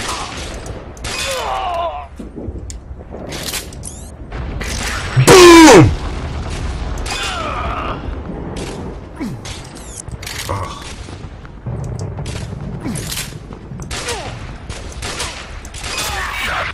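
Loud, close gunfire and heavy booming impacts in the video game Sniper Team 2, with rumbling blasts, clattering mechanical sounds and one sharp whooshing burst in the middle over constant game noise.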